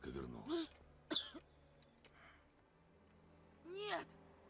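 In God of War, a sick boy coughs, with blood: three harsh, throaty coughing bursts spaced apart, close and moderately loud over a low, quiet game background.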